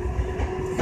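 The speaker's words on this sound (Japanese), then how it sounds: "この電車は東北本線" An E531 series electric train runs on the Tohoku Main Line just after leaving Kuroiso Station at the AC/DC changeover. A brief, steady low rumble carries a faint sustained hum throughout.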